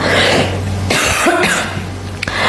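A single cough, close and fairly loud, with some throat rasp, over a steady low hum and no talking.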